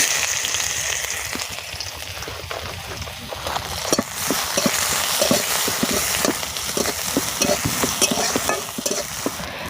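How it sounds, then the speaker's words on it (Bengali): Chopped onion sizzling in white oil in a pan, preparing a Sundarbans-style spicy crab curry, with a spoon stirring and scraping the pan; the frying hiss stays constant while stirring clicks grow busier and louder midway. "পেঁয়াজটা লাল লাল করে ভাজা হয়ে গেছে।"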